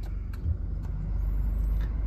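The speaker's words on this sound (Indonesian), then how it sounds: "Nah ini guys, start up suara mesin." A Toyota Innova Reborn 2.4 diesel engine idles just after start-up, a steady low rumble with faint clatter, heard close and fairly quiet with no talking.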